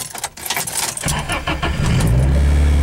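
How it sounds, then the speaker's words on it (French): Car engine cranked by the starter and catching, with brief rattling and a key jangle at first, then the motor firing and settling into a loud, steady low idle. "Ok, le starter marche."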